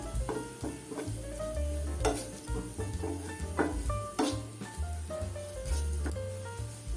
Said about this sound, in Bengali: আমি এখানে খুব লাইটলি ভাজবো। পেঁয়াজের কালারটা ট্রান্সলুয়েন্ট হওয়া পর্যন্ত আমি এটা নাড়তে থাকবো।